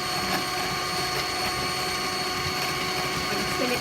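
Lemon mousse mixture being whisked to fine peaks, heard as a steady, loud, close whirring hum that runs unbroken from start to finish with no talking.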